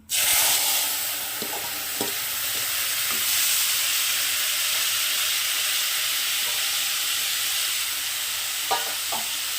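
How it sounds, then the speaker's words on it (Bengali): A mix of lentils, potato, tomato and onion sizzles in hot oil with fried cumin, a loud steady hiss throughout with a few light stirring clicks. "এবার যে আমি ডাল আলু টমেটো পেঁয়াজ সব একসঙ্গে মেখে রেখেছিলাম সেটাকে দিয়ে দিচ্ছি"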